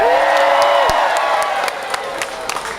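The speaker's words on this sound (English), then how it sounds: "Cheer if you're proud to be Filipino." An audience at a Filipino festival comedy show cheers and whoops loudly, the crowd noise fading gradually, with a voice briefly heard over the start.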